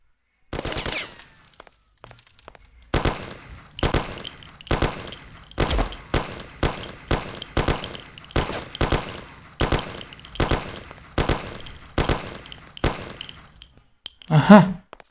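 Rapid bursts of video game gunfire, mostly single shots in quick irregular succession across the whole stretch, loud and close, with a brief clatter at the very end and no talking.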